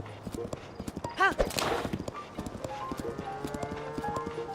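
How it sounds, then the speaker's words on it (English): Horse hooves clip-clopping in a fast galloping rhythm in Zelda: Tears of the Kingdom, with a whinny midway and game music underneath, heard close and clear. "Chris Horse when told to gallop into a human being."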